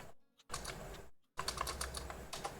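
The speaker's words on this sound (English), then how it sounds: "Oh, I don't like that you're typing." Rapid clattering keystrokes on a computer keyboard come in two close, fairly loud bursts, split by a short silent pause, with no speech.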